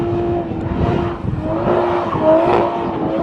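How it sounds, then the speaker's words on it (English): Toyota Supra doing donuts while drifting, its engine droning steadily with a held note and swelling revs, tires scrubbing underneath, close and loud throughout. "About to do some donuts."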